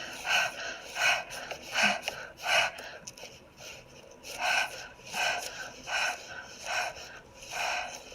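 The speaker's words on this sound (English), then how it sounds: "the fox is very thirsty, and I wanted to show him panting" A thirsty, overheated fox in a video game pants in a steady series of breathy, raspy huffs, about two per second, moderately loud and close with no talking over them.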